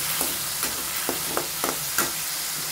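Onions and whole spices like garam masala, bay leaf, cloves and cardamom frying in oil in a pan, a constant close hiss with occasional spoon stirs every half second or so, no talking.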